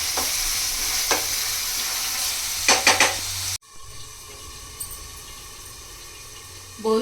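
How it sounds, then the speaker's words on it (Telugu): Onions frying in a pan until golden brown for a Telugu-style boondi curry, with a steady close sizzle, a few clattering stirs around the middle, then a quieter, softer sizzle after a sudden drop in level. "ఆనియన్స్ ఒకసారి ఇలా కలుపుకొని గోల్డెన్ బ్రౌన్ కలర్ వచ్చే వరకు ఫ్రై చేసుకోవాలి"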